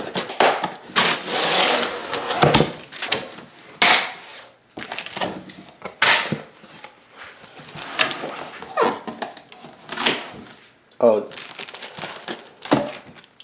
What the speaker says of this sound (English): so let's get straight into the unboxing.